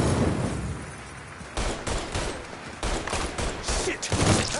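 Shotgun blasts in Mafia III, several loud heavy shots in quick bursts amid chaotic gunfire, with a brief quieter gap before the firing resumes.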